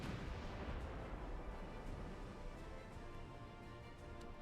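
Naval gunfire in the warship battle game Ultimate Admiral Dreadnoughts, set in 1906, rolls as a dense, continuous rumble of overlapping cannon booms and blasts with no pauses, loud throughout.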